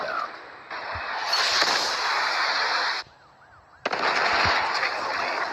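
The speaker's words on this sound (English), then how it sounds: "Hostile Predator missile inbound." A Predator missile strike in Call of Duty Mobile: a loud, sustained roar of blast noise that drops away briefly to a wavering alarm tone, then surges back in full.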